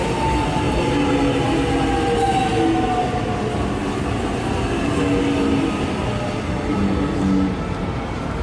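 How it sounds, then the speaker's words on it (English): A Melbourne suburban train runs toward Showgrounds and Flemington Racecourse, heard from on board as a steady loud rumble with faint tonal whines rising and falling over the continuous track noise, no talking. "here we are on board the train"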